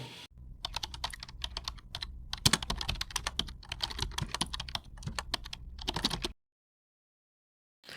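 Rapid, close typing on a laptop keyboard into the Chrome search bar, a dense flurry of crisp key clicks with a few brief pauses, then silence.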